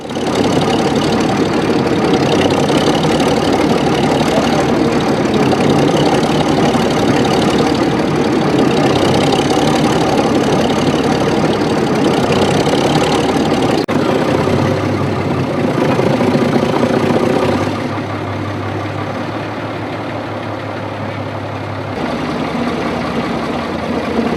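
Loud, rough idling of an old heavy industrial engine, a steady low knocking rumble that runs without a break, then drops to a lower, quieter idle near the end.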